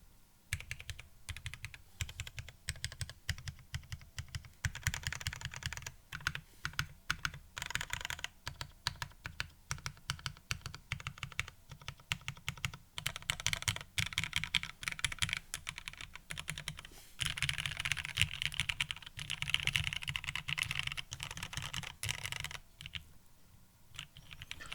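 Steady typing on a Perry.Works IU V2 prototype mechanical keyboard, dense clicking keystrokes close up in quick irregular bursts with short pauses, no talking.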